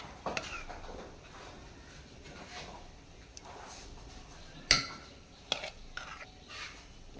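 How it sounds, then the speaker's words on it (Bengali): Cooked khichuri is mashed in a pot with a handheld masher. Soft, irregular squelching and scraping runs throughout at low level, broken by a few sharp clanks of metal against the pot, with no voices. "এরকম একটা ম্যাশার দিয়ে ভালো করে খিচুড়িটা ম্যাশ করে নেব"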